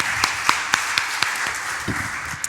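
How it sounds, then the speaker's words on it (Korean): Church congregation applauding during a Sunday worship service, heard as scattered, crisp claps over a steady wash of room noise, with no voices. "영광의 박수 올려드리겠습니다."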